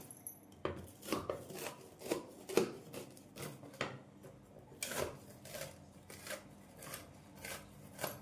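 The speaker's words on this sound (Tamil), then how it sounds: "நாம் நெய் தடவிய கத்தியால் இப்படி ஸ்லைஸ் போட்டு விடலாம்" A ghee-coated knife slicing a puffed rice sweet, a series of crisp crunching cuts and knife taps, close and quiet, in irregular bursts with no talk.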